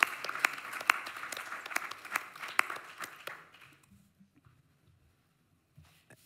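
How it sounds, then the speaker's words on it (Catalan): An audience at a Barcelona poetry slam and recital breaks into applause, a dense patter of clapping that thins out and fades to near silence within a few seconds. "Un fort aplaudiment."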